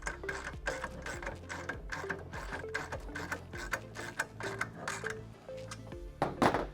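A ratchet wrench clicks in quick repeated bursts as a nut and washer are tightened on a carriage bolt through a Bronco 6G slide floor, with clear mechanical ticking close by.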